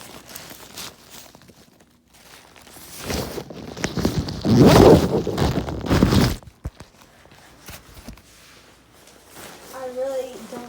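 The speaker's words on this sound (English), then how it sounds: "we'll show you here how to zip the zipper" A zipper on a black cat inflatable is pulled closed, a burst of rasping zip strokes in the middle amid handling rustle, with a voice speaking at the end.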